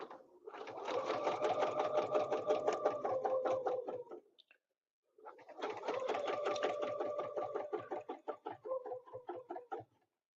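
A quilting machine runs steadily as it stitches a petal along a ruler template, giving a fast, even mechanical rattle for about four seconds, a brief silence, then another run that slows into separate stitches before stopping.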